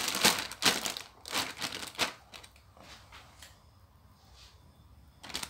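Plastic bag handled while bagging lemons for the freezer, loud crinkling bursts up close in an irregular run, then quieter rustles and a final crackle.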